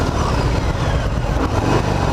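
A 2018 Harley-Davidson Fat Bob engine idling low at around 800 RPM during a demo ride, a steady close rumbling throb with wind noise and no talk.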